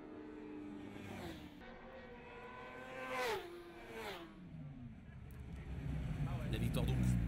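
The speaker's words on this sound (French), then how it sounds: "il va prendre le meilleur sur Arnaud Bourgeois dans les tout derniers tours" Race cars lapping the Ledenon circuit in southern France, engines revving and shifting with rising and falling pitch as they pass, heard at a distance under a steady background rumble, with a commentator talking over them.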